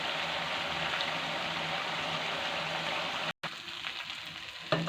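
Tikka boti meat pieces roasting in a pan with masala, a steady close hiss of frying and sizzling throughout, broken by a very short silent gap near the end.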